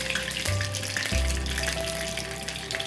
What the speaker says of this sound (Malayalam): അങ്ങനെ നമ്മുടെ ലാസ്റ്റ് പീസ് ഓഫ് ചിക്കനും വറുത്ത് മാറ്റി കഴിക്കും